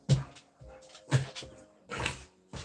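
A dog snuffles, whimpers and slobbers close to the microphone indoors in a series of short wet bursts and soft whines, with no talking.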